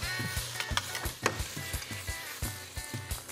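Chili hits hot oil in a wok and sizzles close up, punctuated by quick rhythmic scrapes and clanks of a spatula stirring against the metal, with no voices.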